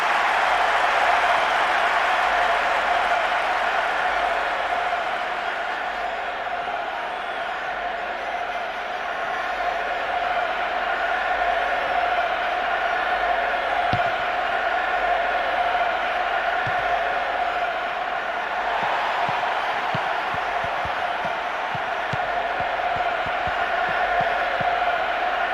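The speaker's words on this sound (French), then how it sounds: "Toute la foule s'apprêtait à les acclamer." In International Superstar Soccer 2, a stadium crowd roars in a steady, dense wash of cheering that swells slightly and holds throughout, with a few faint clicks near the end.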